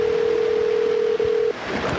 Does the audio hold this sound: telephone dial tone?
yes